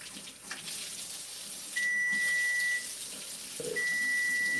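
Warm water runs steadily from a kitchen tap while ingredients are measured, a continuous splashing rush under two separate high electronic beeps, with no talk.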